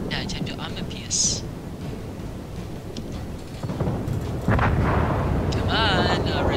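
Heavy naval guns boom in a World of Warships battle, sending armor-piercing shells from a battleship amid continuous low rumbling, with a louder, sustained blast late in the clip.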